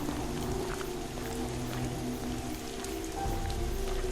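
Steady stormy rain pouring down as a horror-story sound effect, a continuous dense hiss of drops with no voices, unchanging throughout.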